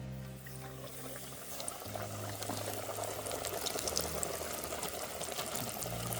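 Fish pieces dusted in flour drop into a pot of hot oil and fry with a steady, bright hiss and crackle of bubbling oil that continues evenly throughout, close and fairly loud.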